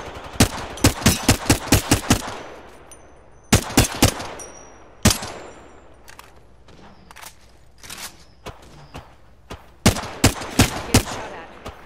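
Automatic weapon fire in Apex Legends, loud and close, coming as rapid bursts of sharp shots separated by short pauses. Quieter footsteps and movement fill the gaps between volleys.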